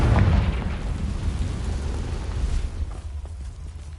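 A Confringo blasting spell goes off in Hogwarts Legacy, a loud low boom at the start that rolls into a long rumbling decay fading over several seconds.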